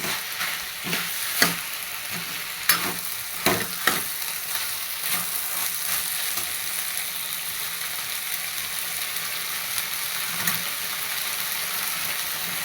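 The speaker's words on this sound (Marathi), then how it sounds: "भिजलेली मटकी आपली चांगली चांगल्या दोन परतून घेऊया तेलामध्ये" Sprouted moth beans (matki) frying in hot oil, with a steady sizzle throughout and several sharp stirring scrapes and knocks in the first few seconds, then a fainter, even hiss.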